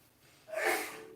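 A single soft sneeze, a short sharp burst of breath after a faint inhale, quiet and close in a calm indoor setting.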